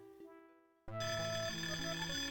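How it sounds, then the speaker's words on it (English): An electronic alarm sounds from a dwarf's control panel in the 1994 video game Death Gate: a faint ringing tone, then a sudden loud, sustained, buzzy ringing that keeps going without a break. "The glowing figure is trying in vain to quiet the alarm on the dwarf's panel."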